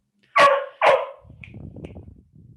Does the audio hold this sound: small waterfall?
no